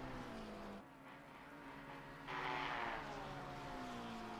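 Race cars in a sim racing game at Spa, through Eau Rouge and Raidillon, engines droning at high revs, one car's note dropping as it lifts and another surging louder past, steady throughout.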